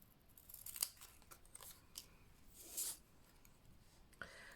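Scissors snipping around the trouser leg of a stamped papercraft figure, a few quiet separate cuts and paper rustles close by, with soft room noise between them.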